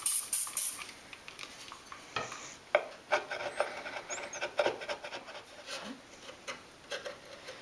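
Scraping wallpaper by hand off the bare wood wall of a dolls house, a run of short rasping, scratching strokes at close range, irregular in rhythm with quiet pauses between passes.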